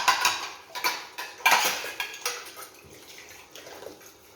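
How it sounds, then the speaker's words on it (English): Oranges rinsed in water knock and clatter against a container, a run of close, irregular clunks and splashy rattles that fade to softer handling. "The only thing I will use now is I rinse them"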